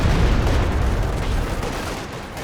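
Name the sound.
machine gun fire in video game Company of Heroes 2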